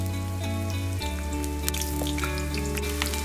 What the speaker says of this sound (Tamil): நாங்கள் இனி ஹாட் ஆயில் செய்ய போகிறோம் சாஸுக்கு. அதுக்கு வெங்காயம் வெட்டி வச்சிருக்கிறேன்,